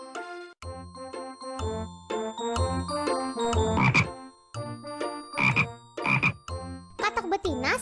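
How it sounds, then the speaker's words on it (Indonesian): Frogs croak by a riverbank in a busy, overlapping chorus of loud, close calls that repeat steadily throughout. "Lihat, sepasang katak sedang di pinggir sungai."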